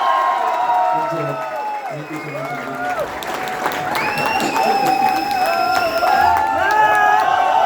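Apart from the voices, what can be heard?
loud applause and cheering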